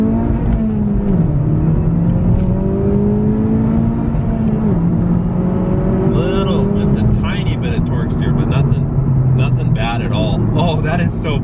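A 2019 Honda Civic Type R's turbocharged engine revs hard around 4,500 RPM, its pitch climbing and shifting through gears, loud and close, with a person talking over the engine noise.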